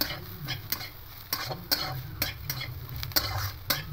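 Bitter gourd slices frying with dry-roasted sesame seeds, a low steady sizzle broken by sharp, regular spatula scrapes and clicks against the pan, close and fairly quiet.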